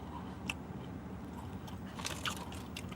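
Someone chews gum close to the microphone, with wet crunching and smacking bursts over a steady background hiss from inside a car driving at night, and no talking.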